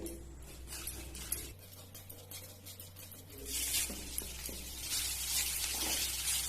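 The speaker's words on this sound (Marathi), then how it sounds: "मी हसकस तुपावर परतून घेते" Poppy seeds roast in ghee in a pan while modak filling is made, giving a faint, steady sizzle with light scraping and stirring clinks that grow busier toward the end.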